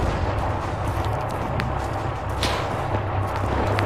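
Gunfire in an Arma 3 WWII Berlin battle, a few sharp scattered shots over a constant low battlefield rumble, moderately loud, no talking.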